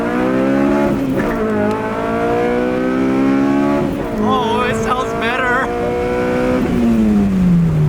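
An 8th-gen Honda Civic Si with a Full Race exhaust drones steadily with a smooth, deep tone, rising and falling through several revs, close and loud throughout.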